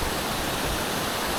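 Broadband roar of a waterfall on the Appalachian Trail in the 100 Mile Wilderness, a steady close rush of falling water with no pauses and no voices.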